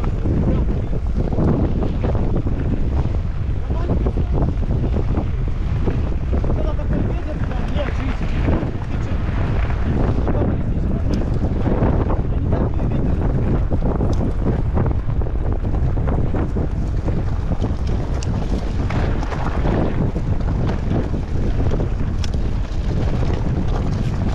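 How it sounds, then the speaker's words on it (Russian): Strong coastal wind buffets the microphone in continuous loud gusts and rumble on a cycling trip along the Crimean coast near Feodosiya and Koktebel, with a voice speaking briefly beneath the roar. "Да, ветер тут."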